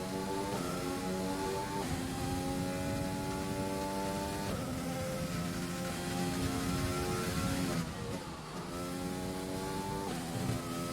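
An F1 race car on the Australia track in an F1 video game, accelerating on full power: loud engine wails climbing through repeated upshifts, each rising sweep breaking off and restarting, with a short lift near the end.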